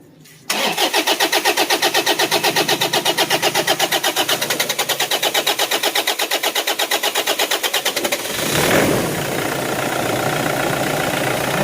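Car engine cranking and catching after a fuel injector replacement, a rapid steady starter whir running for several seconds before the motor fires and settles into a loud, close idle.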